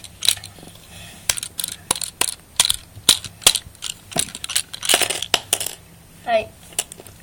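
A LEGO padlock gives a run of sharp plastic clicks and rattles as it is tilted, ending in a short clatter as a lock piece releases and the key slides out, all close and without speech.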